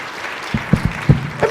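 A live audience at a talk or presentation claps briefly, with a handful of loose, separate claps rising from a quiet room rather than a full ovation.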